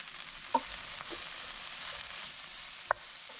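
Vegetables fry in oil over high heat, a faint, even sizzle broken by two sharp clicks of utensils against the pan, no one talking.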